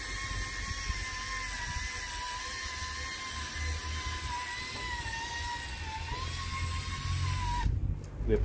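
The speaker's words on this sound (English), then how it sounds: "We apply the polish at a very low speed" A machine polisher with a polishing mop runs at low speed on a headlight during restoration, a steady close whine with a low rumble that holds for about eight seconds before stopping abruptly.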